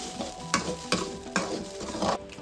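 Chicken kurma masala frying in a pan, a continuous sizzle broken by a few rhythmic stirring scrapes, close and fairly soft, with no voices.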